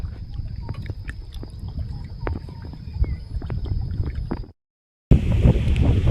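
Wind before rain buffets the microphone outdoors at a fishing spot over water, with gusty, rumbling noise, a faint high whine above it, briefly cutting out before returning louder.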